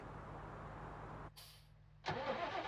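A John Deere-style 6155M tractor engine in Farming Simulator 19 rumbles steadily, cuts out briefly, then starts up again with a loud burst and settles into a busier idle, heard alone with no talk.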